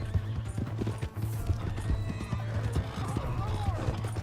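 Horse hooves clip-clop at a steady trot while a horse neighs and whinnies in Red Dead Redemption 2, with shouted voices over a low droning backdrop.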